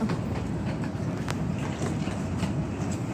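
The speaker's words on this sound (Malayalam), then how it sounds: "ട്രെയിൻ സ്റ്റാർട്ട് ചെയ്തു. ട്രെയിൻ പോവാണ്." An Amtrak train departing a station rumbles steadily with low, continuous clatter of wheels on rails, close by and fairly loud, with no voices.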